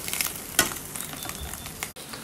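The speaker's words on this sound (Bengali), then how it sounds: "তো আমরা ডিমটাকেও ভেজে নিচ্ছি সেমভাবে" An egg frying in a pan, sizzling softly and steadily at low volume with a few small pops and the clatter of stirring, no voices.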